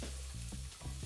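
Onions frying over medium heat in olive oil in a pan, a soft continuous sizzle with low rhythmic stirring bumps, quiet and close, no voices.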